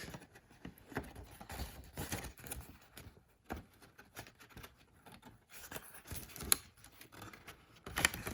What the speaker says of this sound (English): I'm going to give these each a little fold